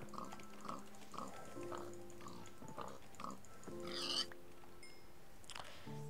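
A Minecraft pig oinks in a run of short, evenly spaced grunts, close and clear, followed by a couple of brief game sounds near the end with no talking.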